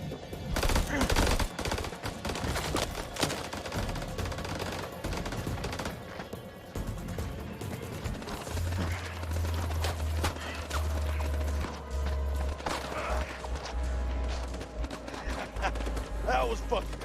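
Gunfire in a firefight scene of The Dark Pictures House of Ashes, with rapid bursts and clattering shots mixed with shouted voices and a low droning rumble underneath.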